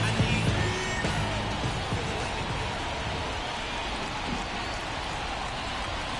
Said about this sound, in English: This rain is not letting up.